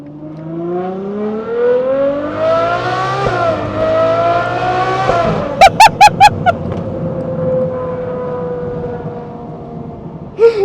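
A widebody Ferrari 812 GTS V12 climbs steadily in pitch through the gears as it accelerates, loud and close, with a few sharp pops from the exhaust partway through and a brief blip near the end.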